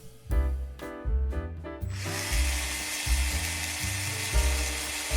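A small power drill bores holes through wooden ice cream spoons for miniature well terrain, the motor whining steadily with several short bursts and pauses before a longer continuous run, close and fairly loud with no talk.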